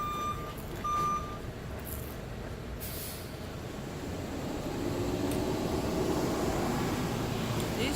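A dump truck's reversing alarm beeps briefly early on, then gives way to a steady rumble of road traffic and engine noise at a fast-food drive-through.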